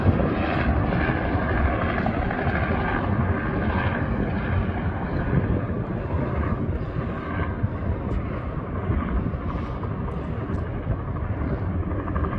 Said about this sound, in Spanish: There you can see a helicopter.